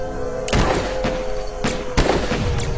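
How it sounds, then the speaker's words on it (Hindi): Gunshots ring out during a police shootout in a Hindi horror story, with three sharp, loud bangs spaced unevenly over a few seconds against a busy background. "शेखर निशाना साध कर गोली चलाता है"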